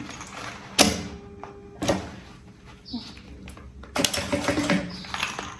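Sewing machine stitching the main fabric and lining of a bag together, short bursts of rapid mechanical whirring with pauses between, close by, with someone talking over parts of it.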